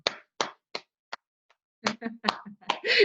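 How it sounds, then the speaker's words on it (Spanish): Eighth-grade science class applauds a student: a few sharp, separate hand claps or slaps ring out near and spaced apart, then a student's voice and classroom chatter follow. "Martina, un aplauso."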